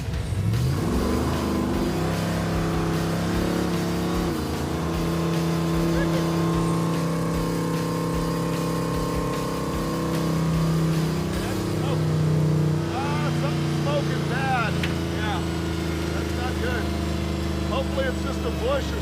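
A Hemi-powered Gremlin's engine runs off-road with a steady, loud, rumbling drone and some revving swells, while people talk over it.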